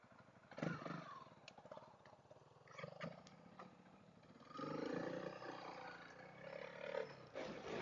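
A Honda CRF dual sport motorcycle rides a trail near Tombstone, Arizona, its engine a steady roar that surges and eases with the throttle, with wind and clatter from the ride and no talk.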